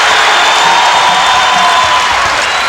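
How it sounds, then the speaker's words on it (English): Arena crowd at a 1991 Indiana versus Boston basketball game, a loud, dense wash of cheering and roaring that holds steady throughout without breaks. "You see the crowd getting into it now a little bit"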